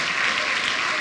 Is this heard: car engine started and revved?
no